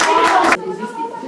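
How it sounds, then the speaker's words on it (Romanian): A crowd claps for a group of children at a children's home event, a dense burst of applause lasting about half a second that stops abruptly, followed by quieter room tone. "Aplaudați copiii!"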